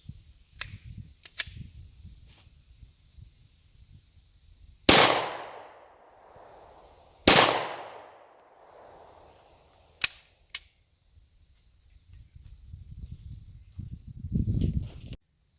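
Factory 10mm Auto ball ammunition rounds being fired outdoors, two loud sharp shots with ringing decay, a few fainter cracks and light clatter between them.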